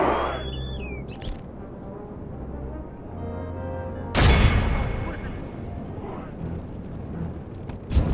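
Catapults in Medieval II Total War fling flaming missiles, a heavy launch boom roughly midway, then rumbling battlefield noise. Bird chirps sound early on and voices are heard.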